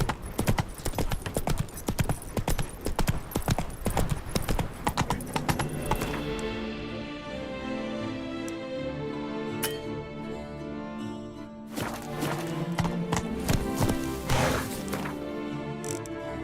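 Roach, the horse in The Witcher 3: Blood and Wine, gallops with rapid clip-clopping hooves at close range, easing to a calmer passage before hoofbeats pick up again, with game sounds and music behind.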